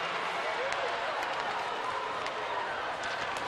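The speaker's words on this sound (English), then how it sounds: "Crowd taking plenty of exception here" A dense, steady roar from a hockey arena crowd at a women's pro game, Minnesota Frost at Ottawa Charge, reacting in protest. The noise is loud and sustained for the whole stretch, with voices blended into a continuous wash.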